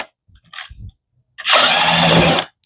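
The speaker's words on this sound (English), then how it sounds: "Milwaukee drill." A Milwaukee cordless drill backs out the battery terminal screws on a 2017 Honda Recon 250 ATV in one loud, steady whirring burst of about a second, after a few faint handling clicks and taps.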